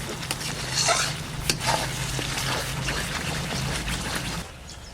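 Spice mixture for katla fish rezala frying in oil with yogurt and sugar, a loud continuous sizzle with stirring scrapes and bubbling as water goes in, settling down near the end, no talking.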